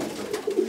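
Soft, close cooing of pigeons in a racing-pigeon loft, a few low murmuring coos in quick succession.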